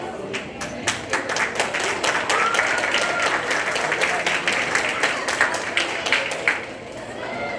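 Students and parents at a school theatre awards night applaud, a moderately sized crowd clapping with distinct individual claps, some cheering and murmured voices in the room.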